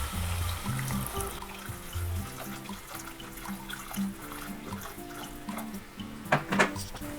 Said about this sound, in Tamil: முங்குற அளவுக்கு தண்ணி ஊற்றிக்கோங்க